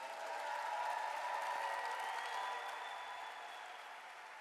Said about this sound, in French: would you clap for my Jesus?